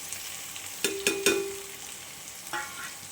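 Onions fry quietly in hot oil in a pan for chicken biryani while a utensil strikes the metal in a few quick, ringing clinks, then stirs again.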